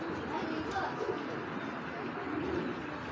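A large chocolate-colored female pigeon coos softly amid a dense, busy background hum, with people talking nearby.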